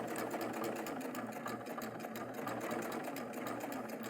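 A serger stitches along a concave curved fabric edge, running continuously with a fast, even mechanical whir and rhythmic ticking, close and steady throughout.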